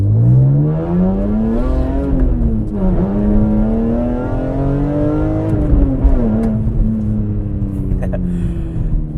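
BMW E46 M3 engine pulling hard under acceleration, loud and close, its pitch climbing through the revs with a short dip at each gear change, steady and continuous throughout.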